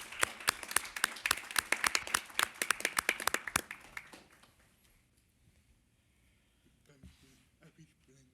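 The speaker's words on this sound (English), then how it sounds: "I think we all deserve a round of applause." Participants at a disability advisory committee meeting clap for a few seconds in a small, distinct round of applause that thins out and fades, followed by quiet room noise and faint speech.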